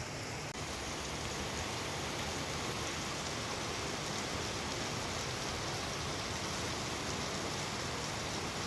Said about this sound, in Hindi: बहुत ज़ोर से बारिश आ रही है